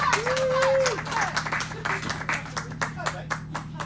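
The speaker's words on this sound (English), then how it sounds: "Oh, louder, clap, clap, clap." Audience clapping at a live spoken-word poetry performance at a festival, starting as a burst under a whoop and voices, then thinning into rhythmic group claps as the performer talks over it.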